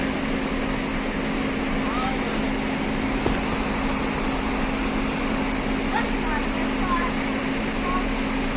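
A Morgul-unit STJ bus, its engine recently overhauled and fitted with a new retarder, runs steadily as it shifts to another parking spot, a constant mid-level drone with a low hum throughout and faint ambient noise.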